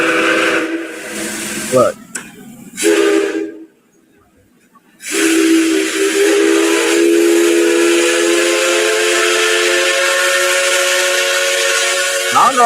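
A C61 No. 20 steam locomotive sounds a sustained whistle of steady tones that starts loud and near after a short spoken word, a brief hiss and a silent gap, then holds for about eight seconds.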